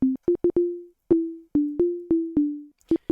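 Short synthesized plucked tones from Ableton play alone in a quick, uneven melodic pattern, each note clean with a brief decay and small gaps between.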